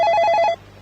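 A telephone rings for a call-in radio program, a bright warbling electronic bell pulsing rapidly for about half a second before cutting off, close and loud.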